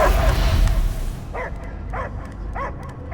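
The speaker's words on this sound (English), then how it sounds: "I hear only barking." Three short dog barks from a creature in Marvel's Guardians of the Galaxy video game, evenly spaced after a rumbling game soundscape fades, each bark clear and moderately close over low ambient drone.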